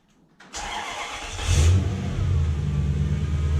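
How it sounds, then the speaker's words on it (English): A Lexus LS400 engine starts during a fuel pump flow test. Near silence, then a sharp crank at about half a second and the engine catches and revs up, settling into a loud, steady idle close by. "So I'm going to start the engine"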